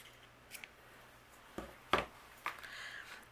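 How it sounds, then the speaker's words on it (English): Scissors trim a paper sign for a handmade friendship scene card, making a few short, quiet, close snips spaced irregularly in an otherwise quiet room. "Maybe I'll trim that."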